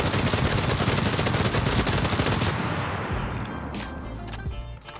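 Rapid gunfire from a player moving crouched in the video game Cuisine Royale, a loud continuous stream of shots that thins out midway into scattered fainter bangs and ambient noise.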